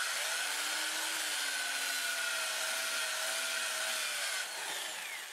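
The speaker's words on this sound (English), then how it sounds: "Now I'll sand it going forward" Black oak turning on a lathe while a sanding disc works the spinning piece, a continuous close rushing hiss with a steady whining tone, uninterrupted for several seconds.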